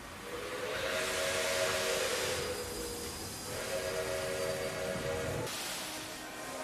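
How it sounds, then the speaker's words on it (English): A steam train's whistle sounds over a steady hiss of steam, a long sustained tone that holds for several seconds, drops off briefly, then returns before cutting off near the end. "Here comes the train. Here it comes."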